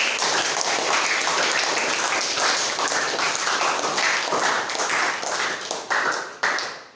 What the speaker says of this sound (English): Well done. Clap.